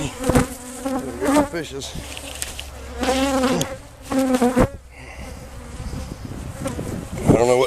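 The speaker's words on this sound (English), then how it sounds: "I don't know how the hell you get that many bees" A swarm of bees buzzes loudly and close throughout, with rising and falling drones overlapping and brief bumps of handling noise.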